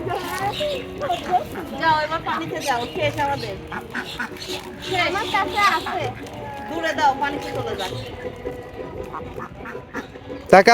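Ducks quack repeatedly at a pond beside Rabindranath Tagore's Kuthibari. Their close, busy calls mix with children's chatter and playful voices throughout, with people talking over much of the sound.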